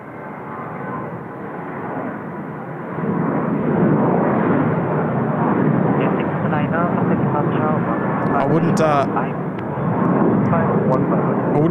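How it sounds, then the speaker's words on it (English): Hong Kong Airlines Airbus A321 jet departing Seoul Incheon Airport, a broad steady engine roar that swells and holds loud, heard from a distance with no talk over it. "the Hong Kong Airlines A321. Heading back to Hong Kong"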